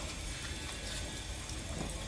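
Water leaks from a broken pipe with a constant, close hiss and spatter, steady and moderately loud throughout without any voices.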